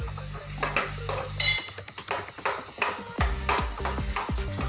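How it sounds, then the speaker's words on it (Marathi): Boiled potato masala being stirred in a pan, repeated sharp metallic scrapes and knocks of a spatula against the pan in an uneven rhythm, close and clear, with a low hum underneath. "तर आता याला सर्व एकजी होईपर्यंत आपण परतून घेऊया"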